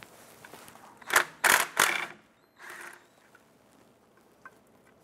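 Quick ratcheting of a 12mm socket on a bolt of a 1997-2006 Jeep Wrangler during a leveling kit job, three close, sharp clicking bursts followed by a softer one, then near quiet.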